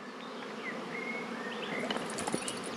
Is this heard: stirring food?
no